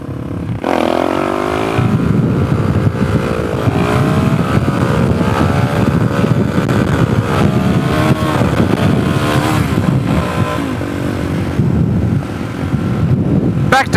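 A Suzuki DRZ400SM motorcycle being ridden, engine droning steadily with rising and falling revs under heavy wind rush, loud and continuous from the rider's position.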